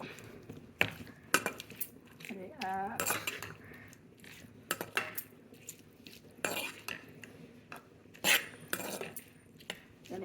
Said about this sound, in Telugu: ఇందులో నేను ఒక చెంచాడు శనగపప్పు వేసిన